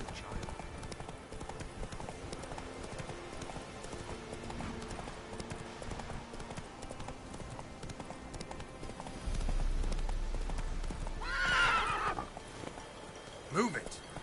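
A horse galloping in The Witcher 3, brisk hoofbeats thudding throughout under a lively background, with a loud neigh rising near the end and a short voice cue.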